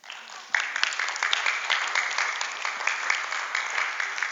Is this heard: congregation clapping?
yes